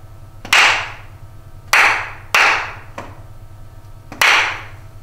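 Four sharp, close hand claps spaced unevenly over a few seconds, beating out the rhythm of word syllables in a second grade music lesson, each clap loud and crisp with a short decay, over a low steady room hum.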